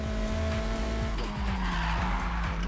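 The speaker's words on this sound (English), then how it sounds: "I think I should definitely handbrake." A car skidding under handbrake in the racing game Need for Speed Heat, a drawn-out tire screech layered over a loud, steady engine drone with shifting revs, heard alone without talk.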